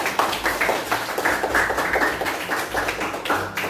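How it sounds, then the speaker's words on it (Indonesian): Classroom group clapping for a student group, fairly close and uneven, with individual hand claps standing out as a patchy rhythm rather than a smooth wash. "Kita beri tepuk tangan."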